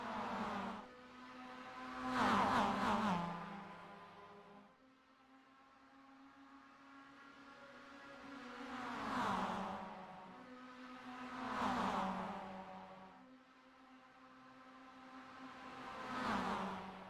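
Mazda MX-5 Cup race cars lapping Dover Motor Speedway in iRacing, engines droning steadily and swelling as cars pass close several times, with no talk over the engine noise.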